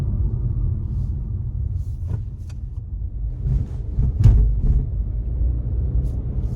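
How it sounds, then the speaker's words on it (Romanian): A 2022 Suzuki SX4 S-Cross rolls over railway tracks, heard from inside as a steady low road rumble with a few soft thumps and knocks as the wheels cross the rails, and no talk. "Și uite, pe șină de tren, cum se simte mașina."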